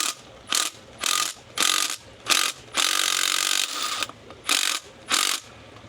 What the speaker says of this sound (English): the hex top right here, it's gonna be about 19 millimeters. So a 19 millimeter socket is gonna work.